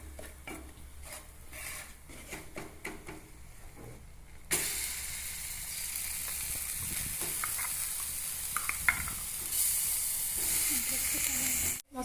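Masala paste frying in a pan, first with scattered stirring scrapes, then a sudden loud hiss and sustained sizzle as the paste hits the hot oil, with spoon knocks over it and no talking.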